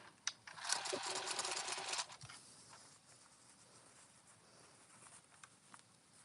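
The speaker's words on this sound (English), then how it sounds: "And I top stitch at 1/8 of an inch." Sewing machine top stitching a jumper, a brief fast whirring run of stitches near the start, then quiet handling rustles and small taps.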